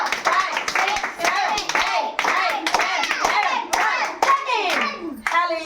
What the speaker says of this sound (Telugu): క్లాప్స్ కొడదామా 1 2 3 4 5 6